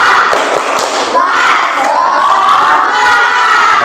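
A class of students shouts a spirit clap chant together in a classroom, with loud overlapping voices mixed with rhythmic hand claps and thumps filling the whole stretch.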